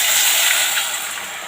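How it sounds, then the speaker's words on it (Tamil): Tamarind water poured into a pan of hot tempering with popped mustard seeds and fried cumin, giving a loud, steady sizzling hiss that eases off slightly toward the end. "இப்போ நம்ம எடுத்து வச்சுருக்கிற புளி தண்ணியை ஊற்றிக்கலாங்க"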